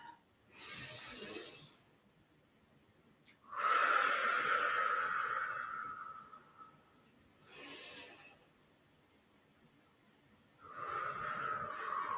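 Deep, slow breaths during a yoga breathing exercise: several long, close exhales, each lasting a few seconds and separated by quiet pauses.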